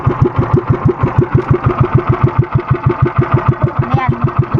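A small pull-start engine runs after a single pull, chugging in a fast, even rhythm of loud close pulses throughout, with no voices over it.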